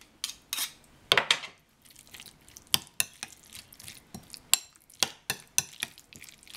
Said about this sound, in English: And you can just mix this up, incorporate it really well.